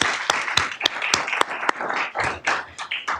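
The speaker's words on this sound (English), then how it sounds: "I think we owe them a round of applause." Scattered claps from a small audience at a League of Women Voters candidate forum, a few sharp separate hand claps at first that thicken into brief, close applause.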